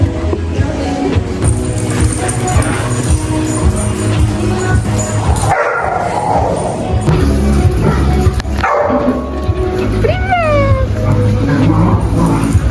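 Several dogs in a cafe yip and whimper in short, high calls over busy, loud background chatter and clatter, with a voice speaking throughout.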